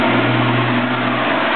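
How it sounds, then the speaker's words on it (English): A 1997 Chevrolet Corvette C5 V8 with dual exhaust rumbles loudly and close, a deep steady engine roar with a rising rev, no voices over it. "real exhaust is supposed to sound like. Dual exhaust. 350 horsepower."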